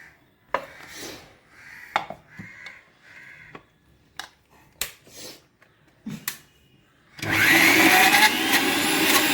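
After scattered taps and clicks, a mixer grinder starts up grinding a spice paste with meat masala and pepper, running with a loud, steady whirring roar.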